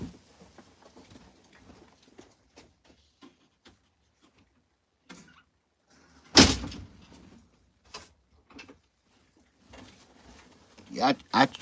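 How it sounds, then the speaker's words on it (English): A door in a home is shut with one loud, sharp thud midway, among scattered light knocks and handling noises, with faint voices around it. "Let me close my door."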